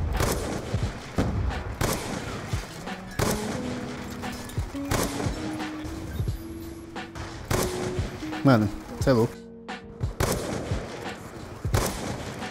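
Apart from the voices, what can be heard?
gunfire in a video game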